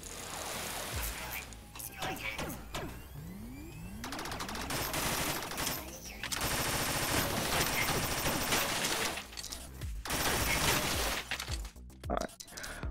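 Gunfire in the Rec Room video game, with rapid bursts of automatic shots crackling loud and close, broken by short pauses and sharp impact and shattering noises.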